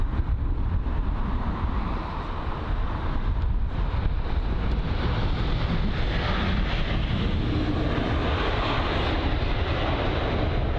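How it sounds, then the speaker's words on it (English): Loud, steady jet roar of a Lufthansa Airbus A320neo arriving from Frankfurt and landing on runway 27 right at London Heathrow, a continuous dense rumble with wind buffeting on the microphone and no talking. "it's a Lufthansa A320neo, and this one is coming from Frankfurt,"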